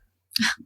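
A single short sneeze bursts out after a brief silence in a casual conversation, close and sharp, followed by a faint voiced trailing sound.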